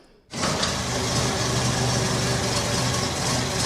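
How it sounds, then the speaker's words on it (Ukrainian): A vintage car engine roars to life after a brief quiet moment and keeps running loudly and steadily, a rough, throaty idle close by. "Фахівці оглядають авто та намагаються запустити двигун вдруге."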